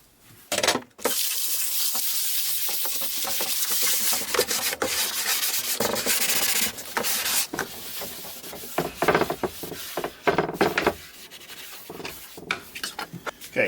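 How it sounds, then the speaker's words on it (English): Sandpaper, 80 grit, scuffs the sides and bottom of a wooden bowl blank jig part in a steady run of close, rasping rub strokes with brief pauses, no talking. "I'm just going to scuff up kind of the sides and bottom of this with some sandpaper"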